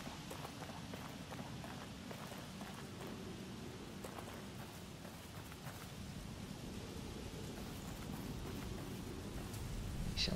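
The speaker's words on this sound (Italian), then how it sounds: "c'è pure un temporale in arrivo" Rain falls steadily through a thunderstorm in a dark forest in the video game The Evil Within, a constant wash of patter with low rumbling underneath that builds slightly toward the end.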